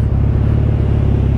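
Vehicle engine on a steep hill road, steady loud low rumble throughout as the vehicle comes on from the front, no talk.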